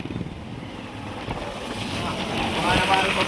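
Strong outdoor wind buffeting the microphone beside a tricycle, rumbling gusts that build louder toward the end, with people talking over it.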